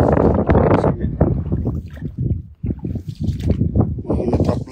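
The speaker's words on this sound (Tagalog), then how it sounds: "Medyo malakas yung hangin" Strong wind buffets the microphone on a fishing boat, producing a continuous roaring rumble that surges in gusts, with someone talking over it.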